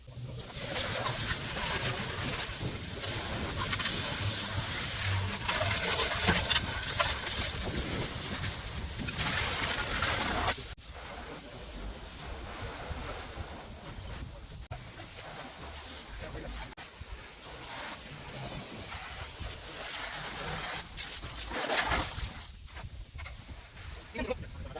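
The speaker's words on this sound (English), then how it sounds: "So let's get the hose out." A garden hose sprays water over an old 1983 Nissan Patrol, a loud, continuous hissing rush that shifts in intensity as the spray moves across the body, with no talk.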